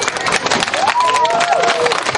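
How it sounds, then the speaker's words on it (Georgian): A children's competition audience breaks into dense, steady applause, many hands clapping at once, with a faint high whistle-like tone over the clapping. "კიდევ ერთხელ აპლოდისმენტები"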